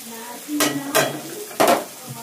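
Masala frying in oil as ground turmeric, cumin, coriander and chilli powder go in, a soft sizzle punctuated by three loud scraping strokes of a spoon against the pan, close, with no speech.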